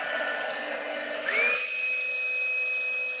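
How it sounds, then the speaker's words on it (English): A steady, high-pitched whine of a heat gun switching up and running loudly, with a constant airy blowing hiss and no talking. "I'm going to get my heat tool and put it on high."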